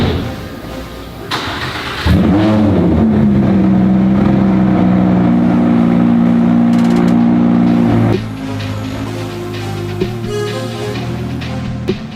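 A Lamborghini Huracan starts up and idles with a loud, steady mid-pitched engine drone as the car is backed out, the note dropping to a lower rumble near the end.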